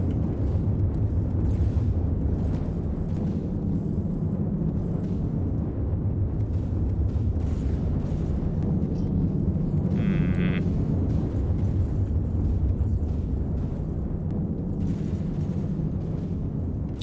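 Heavy cannon fire and explosions in the From the Depths naval combat game, a dense continuous low rumble of blasts with a brief higher-pitched burst midway, loud and unbroken.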